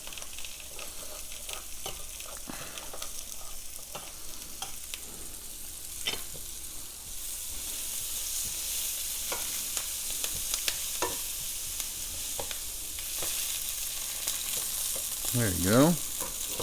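Italian sausage sizzling and crisping in a pan alongside bubbling sauce, a soft steady sizzle with scattered light taps and scrapes, and a brief spoken remark near the end.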